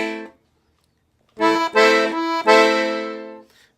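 Left-hand bass and chord buttons on a piano accordion play a samba third beat: a short note, a pause, then three sustained reedy chords in a row, loud and alone.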